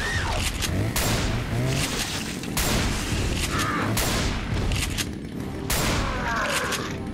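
A riot shotgun fires repeatedly in the video game Resident Evil 4, several loud booming blasts spaced about a second apart amid in-game noise.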